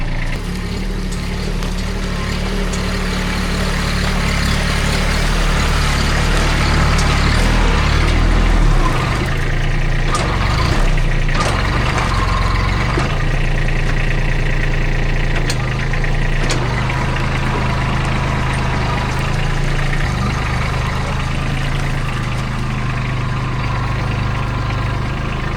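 A small tractor engine idles steadily in a log-collecting setting, a continuous low rumble that stays close and even throughout with no voices.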